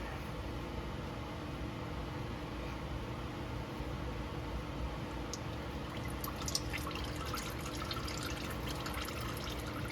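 Warm engine oil drains from a loosened oil filter during a vehicle oil change, a steady faint trickle with light dripping and splashing sounds that grow busier toward the end, with no talking.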